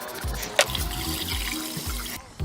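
Water runs steadily over a dirty K&N air filter, a close, continuous rinsing splash with a brief sharper spatter near the start.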